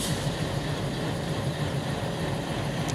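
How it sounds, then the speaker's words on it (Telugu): A passenger train hauled by two diesel locomotives and an electric locomotive rumbles steadily with a low engine drone and a broad roar at Tanuku railway station, loud and close throughout. "ఇది రెండు డీజిల్ ఇంజన్లు, ఒక ఎలక్ట్రిక్ ఇంజన్ వచ్చాయి."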